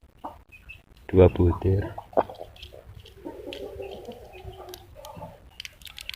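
Adult chickens cluck in a farmyard, a cluster of loud fowl calls near the start with softer clucks scattered after, while a person talks over them.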